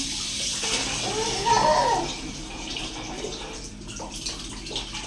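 Water runs steadily from a tap while a child is bathed, a continuous wash of splashing flow with a brief brighter trickle, close and fairly loud throughout.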